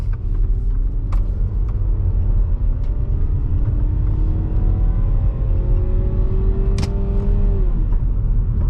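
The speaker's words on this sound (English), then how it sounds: "And I can let the engine sing a bit, let you hear that, keep it in first gear." A 2009 Volkswagen Passat wagon's turbocharged engine revving in first gear, a loud, close rumble whose pitch climbs steadily for several seconds before dropping off near the end.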